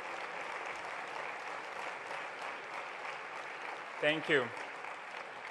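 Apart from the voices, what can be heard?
audience applause for the NEF Fellows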